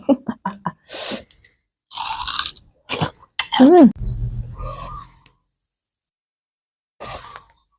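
Close, wet chewing and biting on fresh bilimbi fruit, with short crunchy bursts and smacking between soft sighs and brief vocal sounds, then a long pause before another chewing burst near the end.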